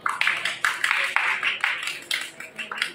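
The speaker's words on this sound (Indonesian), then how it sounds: "berikan tepuk tangan" A small group claps in uneven, quick bursts at a lively gathering. The applause is moderately loud and close, with no voices over it.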